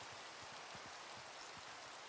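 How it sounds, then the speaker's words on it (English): Steady rain in the Minecraft video game, a soft continuous hiss with faint patters of drops, even and unbroken with no one talking. "It's raining."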